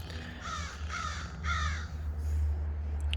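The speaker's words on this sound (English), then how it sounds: "Probably always hear my pet crow in the background. He's talking to the rest of the birds." A pet crow caws three times in a row, clear harsh calls over a steady low rumble, a farther bird call following.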